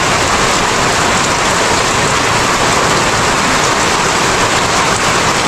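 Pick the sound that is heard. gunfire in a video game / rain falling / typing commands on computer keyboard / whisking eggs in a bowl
rain falling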